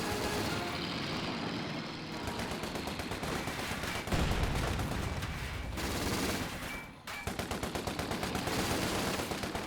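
Battlefield gunfire in Company of Heroes 2: repeated bursts of rapid automatic fire and shots crackle loudly over a rumbling vehicle engine, with a brief lull before the rattling volleys resume.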